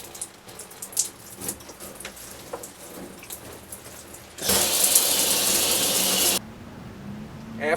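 Water bursts through an RV shower to purge air from the lines of a tankless water heater system, a loud, steady two-second rush that stops abruptly after quieter clatter and background noise.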